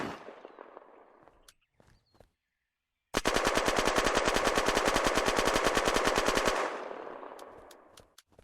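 Modded automatic gunfire in the video game Unturned, a rapid, loud burst of evenly spaced shots lasting several seconds, set between scattered clicks and shorter bangs before and after.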